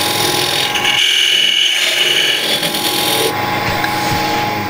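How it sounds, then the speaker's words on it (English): Sandpaper wrapped on a dowel sands the sides of a wooden box, producing close, loud raspy rubbing strokes that shift in pitch as the abrasive moves across the wood. "Wrap a sandpaper around this dowel sander thing and sand the sides."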